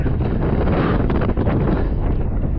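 Strong wind blasting across the microphone on a near-vertical cliff in Crimea, a loud, continuous roaring rumble with gusty fluctuations throughout.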